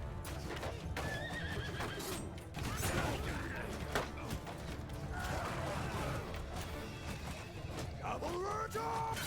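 Cavalry horses whinny and neigh over rumbling hooves and clattering battle noise in the video game Mount & Blade II: Bannerlord, with a few shouted voices in a busy, continuous din.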